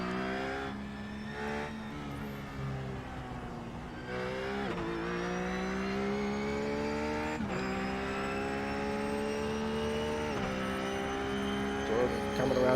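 A Ruf S3R4 race car laps the Imola circuit, its engine a steady, loud drone that climbs in pitch through each gear, with brief dips at the shifts as it keeps pulling.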